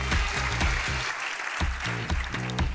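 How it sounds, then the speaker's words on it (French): A conference audience applauds to encourage a nervous speaker at a closing plenary session, with clapping mixed with tonal, pulsing background sounds throughout the brief stretch. "Est-ce que vous pouvez l'applaudir avant parce qu'elle me dit qu'elle a le trac?"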